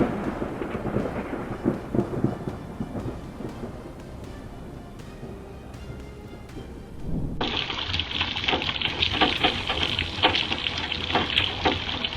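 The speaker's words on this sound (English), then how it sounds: "Lightning strikes near the mouth of a volcano, the flash making viewers hold their breath before nature's terrifying power" Thunder from a lightning strike near the mouth of a volcano rolls as a loud, broad rumble, shifting midway into a brighter, hissing roar that continues to the end.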